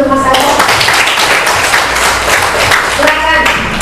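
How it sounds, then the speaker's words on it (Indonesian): Claps from an audience in a classroom-style gathering ring out for a young performer after a poetry reading, brisk scattered clapping fairly close and loud, with the clatter holding steady throughout. "beri tepuk tangan untuk Mas Arsa"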